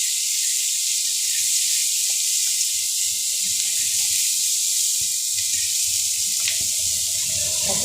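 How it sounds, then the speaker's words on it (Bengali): Meat fries in hot oil with a steady, bright sizzling hiss that holds throughout, joined by faint clinks and a few soft knocks of cooking. "তেলের মধ্যে একটু ভাজা ভাজা করে নিব তারপরে মশলাগুলো ভাজব"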